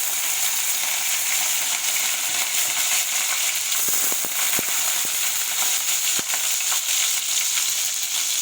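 Curry leaves fry in hot oil for a potato fry, giving a loud, steady, hissing sizzle throughout with a handful of sharp pops and crackles scattered through the middle.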